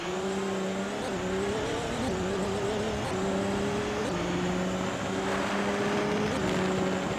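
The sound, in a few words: racing car engines in an AI car race video game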